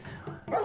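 A dog in the video game Hunted Ducks lets out a short bark, brief and fairly close, with a faint yelp at the end and no talk over it.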